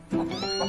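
A cat gives a single short, rising meow, close and clear against a quiet background.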